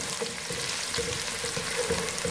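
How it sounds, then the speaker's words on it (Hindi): Onions sizzle and fry steadily in a pan over a medium flame while a chickpea potato pulao is prepared, a continuous close crackle with light stirring and no talk. "प्याज का कलर चेंज होना शुरू हो गया है, मीडियम फ्लेम पर हम फ्राई कर रहे थे।"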